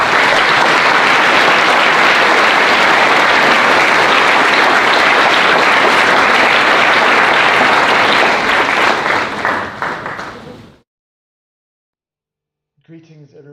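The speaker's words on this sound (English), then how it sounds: "Let's applaud Mr." A school assembly audience applauds at a Founders Day event, loud sustained clapping from a large crowd that fades out, followed by silence and then a voice starting to speak.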